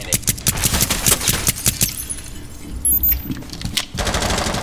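Gunfire in the video game Rainbow Six Siege: rapid, loud repeated shots in quick bursts, a short lull, then more firing, close and punchy with no talking.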